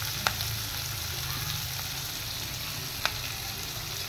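Whole garam masala and bay leaf frying in paneer curry gravy, giving a steady close sizzle with two brief sharp clicks of a utensil against the pan.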